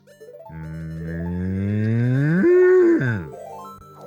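A person imitates a cow, letting out one long drawn-out moo that rises in pitch and then falls away, close and clear.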